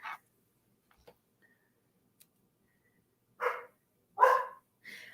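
A dog barks in a few separate, sharp barks with long quiet gaps between them, somewhat distant and muffled as if through a closed window.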